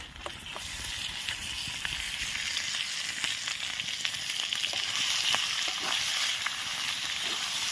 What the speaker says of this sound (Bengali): এবার কিন্তু আমরা মটনটা ঢেলে দেবো